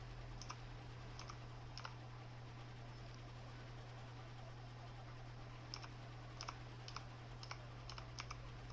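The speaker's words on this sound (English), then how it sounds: "sorry for the loud clicking from my keyboard" Loud, close keyboard clicking from a gamer's computer at the microphone, coming in short bursts of sharp keystrokes with quiet pauses between them, over a constant low electrical hum.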